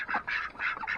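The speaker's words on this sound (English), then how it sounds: "you hear that quiet quack?" A male duck gives a few soft, raspy quacks in quick succession, close and fairly quiet.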